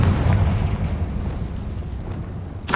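A fiery Confringo spell explosion in the Hogwarts Legacy video game, a loud, sustained roaring blast heavy in low rumble that tails off, with a sharp burst at the end.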